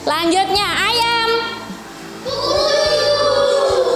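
In a classroom, groups of children chant a vocal imitation of a rooster's crow, kukuruyuk, in two loud bursts separated by a brief quieter gap.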